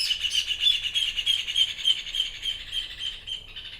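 Birds sing in a garden with a rapid run of bright, high chirps repeated in a quick steady rhythm, clear and fairly close, fading slightly at the end.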